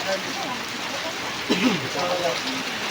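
Heavy rain pours down in a steady, loud broadband hiss that fills the whole stretch, with faint voices briefly rising over it midway.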